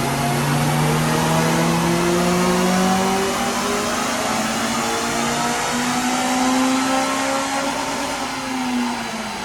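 A tuned Honda Civic FN2 Type R engine revs hard on a dyno power run, its loud droning tone climbing steadily in pitch for about nine seconds before easing slightly at the end.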